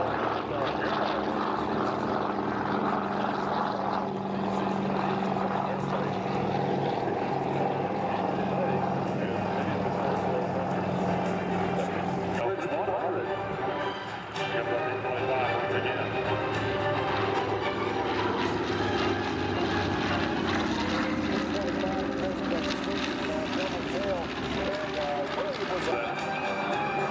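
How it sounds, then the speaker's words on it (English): Classic World War II propeller airplane flying past at an airshow, a loud continuous engine drone with shifting pitch, under a commentator's voice. "now we got another airplane coming along. All the classic World War II airplanes."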